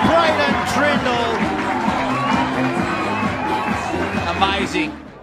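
Stadium crowd roaring and cheering at the 2018 Jersey Flegg rugby league grand final, Penrith against Cronulla; a dense, sustained wall of noise that holds loud throughout with a commentator talking over it, easing slightly at the very end.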